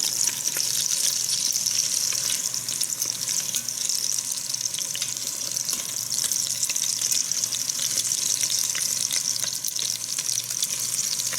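Homemade meatballs fry and brown in a pan with a loud, dense, continuous sizzle and crackle that stays steady throughout.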